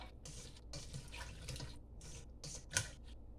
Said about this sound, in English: Add 2 cups of water right there.